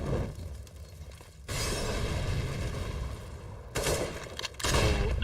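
Grenade blasts in a Counter-Strike match: loud broadband booming bursts, one long and sustained, then two shorter ones near the end, among game noise with no clear talk.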